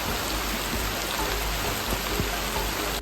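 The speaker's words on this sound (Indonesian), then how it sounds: "Di sini hujannya sangat deras sekali, kemungkinan hujannya akan lama" Heavy rain pours down in a forest, a dense and loud unbroken hiss of drops that fills the whole stretch with no voices.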